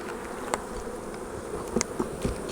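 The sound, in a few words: honey bees buzzing at a beehive nuc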